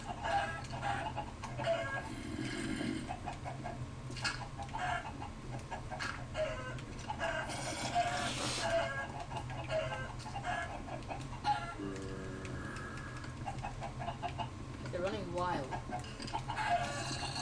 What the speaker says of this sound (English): Get these chickens out of this hole.